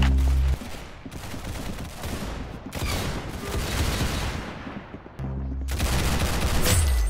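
Rapid bursts of gunfire in the Roblox shooter Arsenal, dense crackling volleys broken by short pauses and sharp cut-offs, loud and close.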